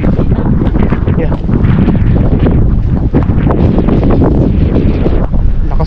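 Strong wind buffets the microphone nonstop beside a lake at a trout-fishing spot, a dense low roar that hides any clear wave sound, with people talking underneath throughout.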